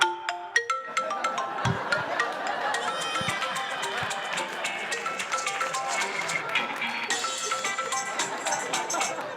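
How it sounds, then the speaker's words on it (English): A cell phone ringtone playing a song at a stand-up comedy club, music heard over audience noise and scattered sounds, fairly steady and moderately loud throughout. "And this is my dad's favorite ringtone."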